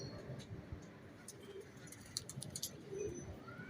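Low, throaty cooing from a gray-eyed pigeon held close by, a soft rumbling coo with a few sharper clicks and chirps mixed in, steady and fairly faint over a quiet rooftop background.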